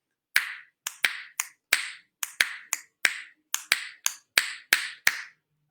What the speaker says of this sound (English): Snap, snap, snap your fingers. Make up a rhythm on your fingers.